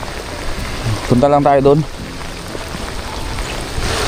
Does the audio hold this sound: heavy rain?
yes